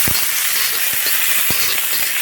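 Cabbage sizzling in hot mustard oil in a wok gives a steady, bright frying hiss, with a few soft stirring knocks scattered across the short stretch.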